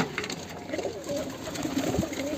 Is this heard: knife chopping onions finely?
no